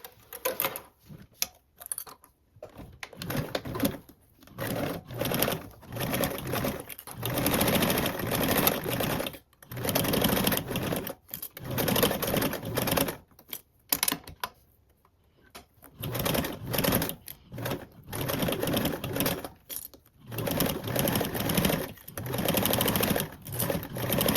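A sewing machine stitches a quarter-inch seam allowance, running in steady, close bursts of rapid needle clatter with short pauses between runs.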